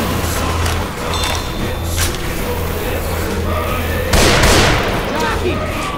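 A boomer bomb bursts in Left 4 Dead 2 during the Dark Carnival campaign: a broad noisy blast near the end, over steady game noise, music and talking players.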